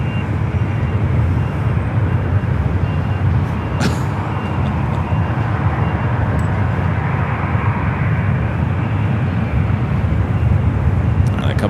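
A heavy jet passes overhead at San Francisco International Airport, a dense, steady roar of engine noise holding level throughout, with a faint voice briefly audible beneath it.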